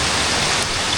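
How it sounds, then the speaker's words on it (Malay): Light drizzle falling outdoors at a riverside fishing and cooking spot in Selangor, a steady soft hiss of rain spread evenly through the whole second with no voices. "Hujan renyai pula geng."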